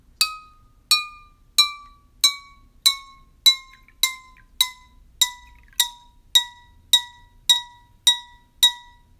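A water-filled glass struck repeatedly in a steady rhythm, about thirteen clear ringing clinks with the same pitch, each decaying quickly into silence, close and alone.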